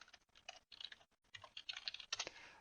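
Fingers typing on a computer keyboard in quick irregular bursts of close, crisp key clicks, broken by brief pauses, quiet and with no voice over it.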